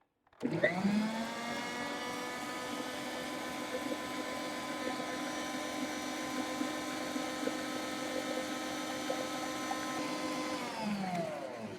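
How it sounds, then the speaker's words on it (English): An electric mixer beats egg whites and sugar toward peaks for a coconut cream pie meringue, spinning up sharply, then holding a loud, steady whirring drone for about eleven seconds before winding down. "You want to beat it until it comes to a nice peak."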